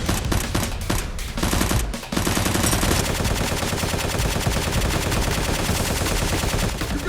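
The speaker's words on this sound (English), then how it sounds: "Dr. Lee furiously fires back at Tony, trying to reclaim the suitcase" Film shootout with machine-gun fire in rapid, continuous bursts, loud and close, several sharp separate shots at first and then a dense, unbroken stream of rounds.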